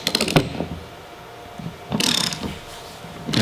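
Bursts of ratcheting, mechanical clicking from a TurboSocket tool removing a stud fastener, heard in short spells at the start, middle and end, close up with quieter gaps between.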